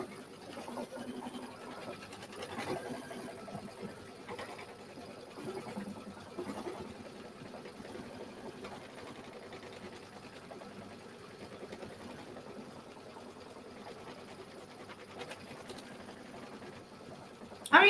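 A sewing machine stitching steadily at a quiet, even hum with a soft rhythmic chatter of the needle, close but low in level, continuing without pause.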